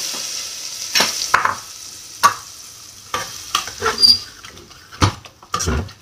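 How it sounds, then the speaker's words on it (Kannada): Tempering of mustard seeds and urad dal sizzles in oil for cooked greens, a faint steady hiss broken by repeated scraping stirs and clinks of a spoon against the pan. "ಈಗ ಈ ಸೊಪ್ಪಿಗೆ ಒಗ್ಗರಣೆ ಹಾಕಿದಾಗಿದೆ"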